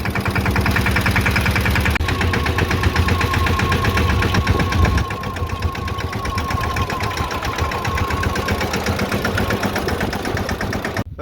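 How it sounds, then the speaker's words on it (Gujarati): A tractor engine runs loud and close at a steady idle while manure is unloaded on a farm, its dense, knocking chug continuing without a break and with no talking. "અટાણે હાજન કાકા ટ્રેક્ટરમાંથી ખાલી કરે ખાતર."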